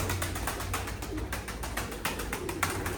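Pigeons coo repeatedly in a loft, soft rhythmic throaty calls close by over a steady background hum, with no talk.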